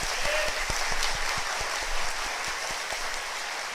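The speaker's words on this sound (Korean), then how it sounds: "우리 하나님께 박수 올리겠습니다" Congregation applauding God at a united revival meeting in a church, a steady dense roar of clapping that holds evenly throughout with no talk.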